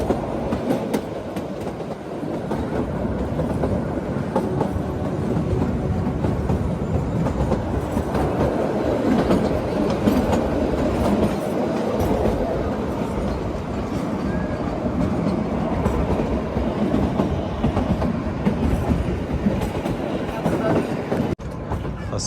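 Himalayan Queen toy train on the Kalka to Shimla line, a continuous close rumble and rhythmic clickety-clack of carriages rolling along the track, with voices faintly audible beneath.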